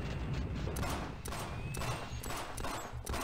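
Rapid gunfire in the video game Half-Life, dense bursts of shots and mechanical clatter firing continuously and loudly, with no pauses and no talking.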